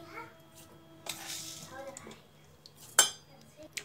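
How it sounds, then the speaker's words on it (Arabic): A spoon clinks and scrapes against a pot while cold milk, starch, cocoa and sugar are stirred, with soft rustling between the metallic taps, close by. "في المرحلة دي بقلب كل المكونات على البارد بالشكل ده."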